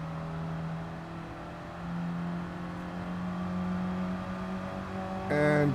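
Car engine held at full throttle in Gran Turismo 7 during a National B license test, a steady high-revving drone that climbs gradually, with a brief sharper burst near the end.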